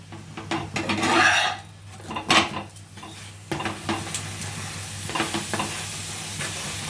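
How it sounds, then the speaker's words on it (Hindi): Kulcha made from wheat flour roasts in ghee on a hot pan, giving a steady sizzle broken by scraping and pressing strokes from a spatula, close up with no talking. "फिर से घी डाल के हमें सेक लेना है इसे।"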